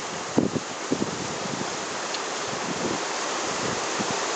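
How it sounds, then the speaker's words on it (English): A waterfall in a Snowdonia valley roars as a steady, broad wash of rushing water, with a few faint knocks near the microphone early on. "if you can hear me over the noise of the waterfall"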